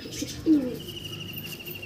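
Andhra pigeons coo softly nearby, one short throaty coo standing out amid faint chirps and a thin background whistle.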